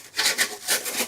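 A Condor Hudson Bay knife's toothy blade cuts through cardboard in a quick series of rough, scraping strokes, close and alone.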